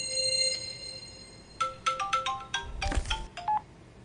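A mobile phone ringtone plays alone, a steady electronic melody followed by a burst of short, bright beeping tones at close range.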